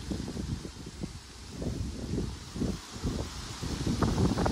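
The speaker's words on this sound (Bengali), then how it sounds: "ওয়েদারটা কিন্তু দারুণ লাগছে, এত হাওয়া দিচ্ছে" Wind gusts across a village fishing pond during rain, a steady blustery rush with low rumbling buffeting against the microphone, swelling and easing in waves throughout.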